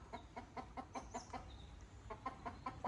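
A hen clucks repeatedly in a steady series of short calls, fairly close and moderately loud, while the household dog is somewhere nearby.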